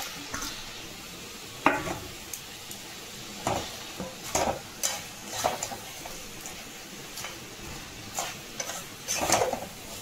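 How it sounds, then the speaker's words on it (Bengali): Fish bones fry in a spice paste seasoned with salt and turmeric, cooked for a Bengali kata chorchori. A low steady sizzle runs under irregular scraping strokes of a spatula against the pan. No one talks. "এবারে মাছের কাঁটাগুলো দিয়ে আমি একটু কষে নেব"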